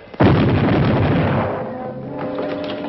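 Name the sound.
ship's cannons firing a broadside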